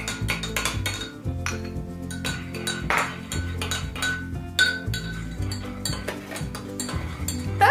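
Spoon stirring egg yolk into a homemade cough mixture in a glass or dish, a busy run of bright clinks and scrapes against the sides, close and continuous.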